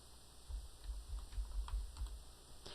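Keystrokes on a computer keyboard typing a program name into the Windows Start menu search, a run of quick, light clicks close by with no talking.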